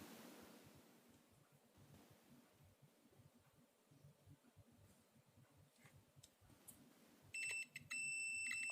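Electronic alarm from a GPS unit being wired into a Kubota DC-93 harvester, beeping loudly in steady tones at the end after a stretch of faint rustling background.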